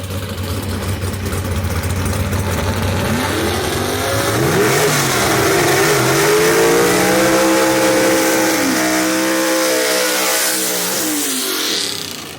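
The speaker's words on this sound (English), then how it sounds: "The Ain't Done Yet Barracuda, 383 cubic inches of Lamar Walden race engine under the hood" A Barracuda drag car with a 383 cubic inch Lamar Walden race engine, loud and close, revving hard in rising and falling sweeps over a rumbling idle before cutting off at the end.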